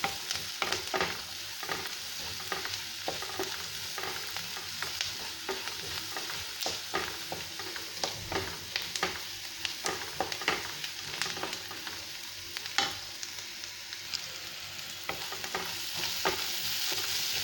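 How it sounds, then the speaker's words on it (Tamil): Onions and soaked poha sautéing in a pan for quick upma, a steady sizzle broken by frequent scraping stirs of a spatula against the pan, close and continuous with no talking. "வெங்காயம் நல்லா வதங்கிருச்சு."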